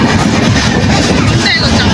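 Two trains, including the Howrah–Jodhpur Superfast running slowly, move side by side on the rails, giving a loud, dense, close rumble throughout.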